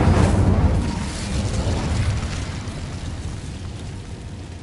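A fire spell bursts out in the Hogwarts Legacy video game, a loud whooshing boom that swells at first and then slowly fades into a sustained rumbling roar.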